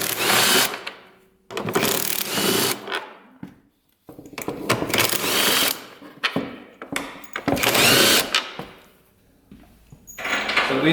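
Power tool whirring in repeated loud bursts with short pauses, loosening rusted bolts on an old ATV that sat for about 20 years; no talking over it.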